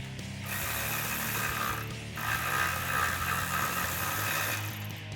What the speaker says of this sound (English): I'm going to get a 15mm socket with a ratchet on this side